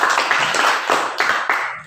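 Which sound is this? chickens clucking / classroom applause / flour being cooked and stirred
classroom applause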